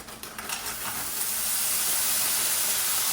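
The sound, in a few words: peppers and onions frying in oiled pan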